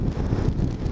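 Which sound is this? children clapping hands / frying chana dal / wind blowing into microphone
wind blowing into microphone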